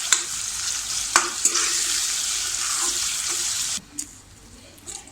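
Chopped onion fries in a pan with a steady, bright sizzle for a few seconds, punctuated by brief scrapes and clatters of stirring, then drops away to a quieter hiss near the end.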